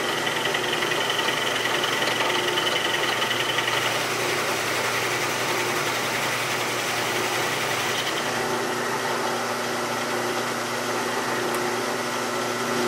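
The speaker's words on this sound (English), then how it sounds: "So I'm gonna lock the quill and start milling." Steady machine hum of a milling machine with a cutter in a half-inch R8 collet working metal, continuous and fairly loud with a high whine, running unbroken throughout with no talking.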